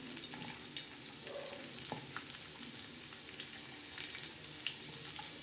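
Cumin seeds and crushed garlic crackle in hot oil in a pan as a tempering for a tawa-fried cluster bean dish, a steady close hiss dotted with small pops.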